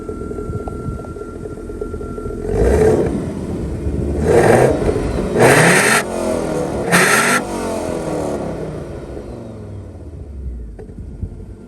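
An Audi 80 B3 five-cylinder engine revs up and falls back in several strong bursts over a steady rumbling idle, close and loud, with no talking.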